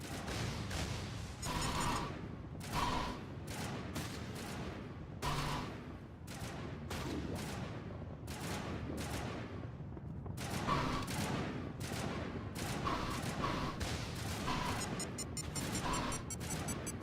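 Rapid bursts of gunfire crackle through a firefight in Mass Effect Legendary Edition, sharp repeated shots in clustered volleys with brief gaps, fairly quiet overall and without talk.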